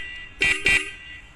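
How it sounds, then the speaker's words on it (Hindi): A motorbike horn sounds two close, loud honks, each short and bright, with a quiet background before and after and no talking. "तो गाइस आप देख सकते हैं कितना अच्छा हॉर्न है।"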